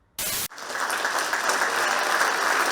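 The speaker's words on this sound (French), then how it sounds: "Des applaudissements, un son qu'on n'avait plus entendu depuis longtemps dans la salle du W à Woustviller." Applause fills the hall of the W in Woustviller, a dense, even wash of clapping that swells after a brief burst and then holds steady without pause.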